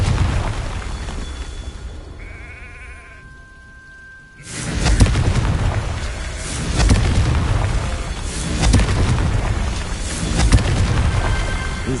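A Confringo blasting spell explodes in Hogwarts Legacy on PS5, a sudden loud boom after quieter ambience and tones, followed by sustained rumbling, crackling blast noise that swells in waves.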